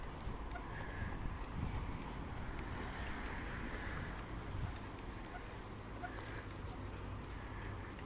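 Steady wind buffets the microphone in a constant low, rushing rumble that never lets up, with no voices.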